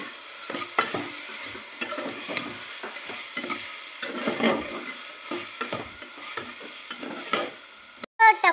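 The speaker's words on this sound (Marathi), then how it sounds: "बटाटे टाकून घेऊयात। फ्लावर टाकून घेऊयात आणि हलवून घेऊयात।" Potatoes and cauliflower frying in a pan for masala rice, a soft sizzle under frequent scraping stirs, close and rhythmic, ending in a couple of sharp clatters.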